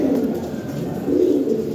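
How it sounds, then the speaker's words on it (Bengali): Lahori and racer pigeons of European bloodline coo steadily at close range, a low throaty murmur swelling in two rolling phrases with no talk over it. "এর টপ কোয়ালিটির টয় বিটের কবুতর।"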